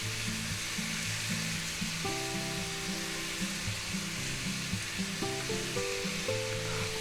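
Spicy ground beef and vegetables with green onions stir-fry in a hot pan, giving a steady, close sizzle with faint stirring and scraping throughout, no voices.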